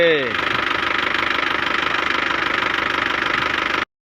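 A car engine idles steadily and close by in an even, continuous drone with a faint rapid ticking pulse, checked before a drive of nearly 300 km; a brief voice sounds at the very start, then the engine runs alone until it cuts off.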